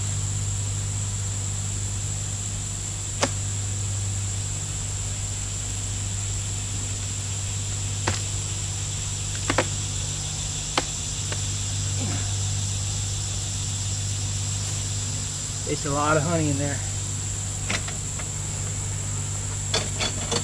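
Agitated honey bees around an opened hive give off a steady, low droning hum that continues throughout, with scattered clicks of hive handling and a brief spoken remark near the end.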